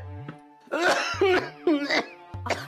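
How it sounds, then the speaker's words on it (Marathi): A man coughs several times in harsh, raspy bursts, with throat-clearing between fits, close and loud. "यांचा खोकला वाढतच चाललाय"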